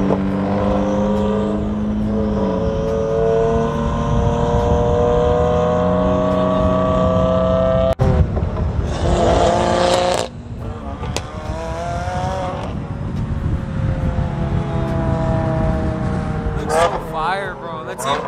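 A Subaru car drives and revs, its engine droning steadily with rising and falling tones and sharp rev swells later on, close and loud, with people talking over it.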